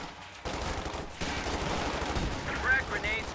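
MG42 machine gun fire in a World War II video game, dense bursts of gunfire and distant battle noise throughout, loud and continuous with no clear pauses.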